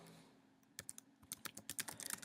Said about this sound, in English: you can start typing in your first paragraph